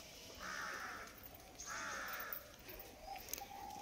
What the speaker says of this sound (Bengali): এদিকে কাক ডাকছে